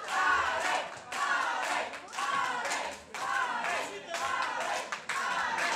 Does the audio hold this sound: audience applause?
yes